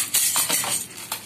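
Metal nail jingles rattle on a homemade PVC pipe drum, giving a bright, fairly shrill shimmer in a few quick shaken bursts, close and alone.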